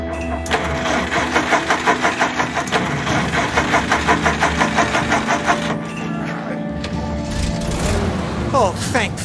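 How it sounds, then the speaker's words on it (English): A car engine in the video game As Dusk Falls cranks with a rapid rhythmic churning and then settles into a steady idle, loud and close, with voices talking over it. "Stop the engine!"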